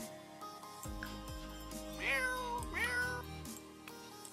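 A cat meows twice in The Sims 4, drawn-out game-cat calls rising and falling over a steady hum of background music, fairly close and clear, with no talking.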